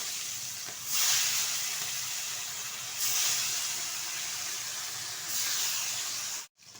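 Salted parshe fish fry in hot oil in a wok, making a strong, close hiss that swells in surges and stays steady in between, then cuts off abruptly near the end.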